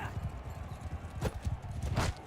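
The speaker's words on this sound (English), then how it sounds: "I am flying on this horse." Horse hooves gallop in the medieval combat game Bannerlord, a rapid, steady clip-clop rhythm close by, with brief whooshing swishes layered on top.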